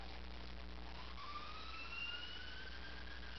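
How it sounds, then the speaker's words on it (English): A siren rising and sweeping in pitch over a steady low hum, moderately faint and distant, as an emergency vehicle passes by during a Magic School Bus Animals game session. "Pardon the siren."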